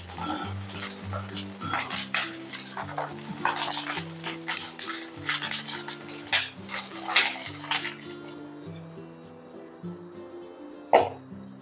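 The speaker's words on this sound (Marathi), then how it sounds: "आता हा साबुदाणा तळून घ्यायचा आहे।" Sabudana fries in very hot oil for a festive chivda, with rapid crackling sizzle and clinks of a metal slotted spoon against the pan. Steady music plays underneath, and the frying fades near the end.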